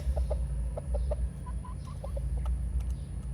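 Three-month-old gamefowl chickens cluck in short, soft, scattered calls over a steady low background rumble outdoors, several brief clucks spread across a few seconds.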